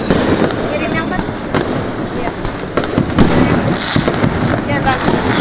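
Firecrackers burst repeatedly on New Year's Eve, sharp cracks popping near and far over a dense crackling roar of fireworks, with people talking throughout.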